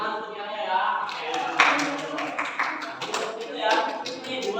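Classroom applause during a maths lesson, a short burst of many hands clapping unevenly, mixed with the chatter of students and a teacher's voice.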